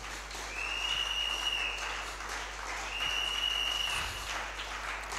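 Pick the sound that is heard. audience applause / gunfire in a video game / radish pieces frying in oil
audience applause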